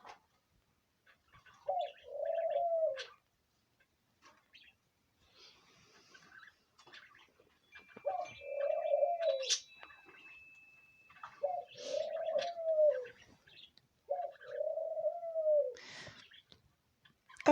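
Eighteen to nineteen day old fledgling doves cooing, soft low throaty coos repeated in four or five separate bouts with quiet gaps, close and faint, with no talk.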